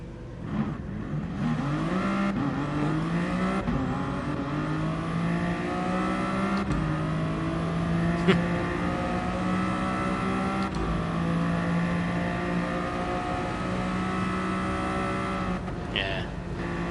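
A VGT BMW in a PS4 racing game, finished in black, red and silver chrome, holds a steady, continuous engine drone that rises and sweeps in pitch throughout, with a voice talking over it.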